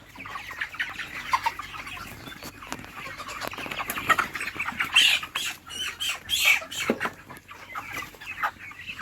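Broiler chickens cluck and chatter steadily during weighing, a dense, close flock sound with overlapping calls and scuffling throughout.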